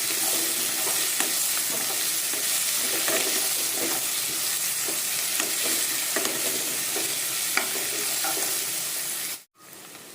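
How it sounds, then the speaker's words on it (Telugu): A grated green mango and poha mixture is stirred in a pan, giving a continuous soft sizzle with scraping strokes near and fairly loud, ending in a brief cut to silence. "ఇప్పుడు వీటిని ఒకసారి బాగా కలుపుకోవాలి."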